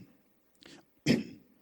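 A quiet, breathy throat clearing: a soft short rasp followed by a stronger, harsher clearing, close by with no speech.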